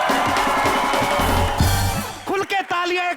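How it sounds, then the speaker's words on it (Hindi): A studio audience at the comedy show Comedy Nights With Kapil cheers and whoops loudly for Shah Rukh Khan, a dense crowd roar under a host's voice and music. "खुल के तालियां एक बार शाहरुख भाई के लिए"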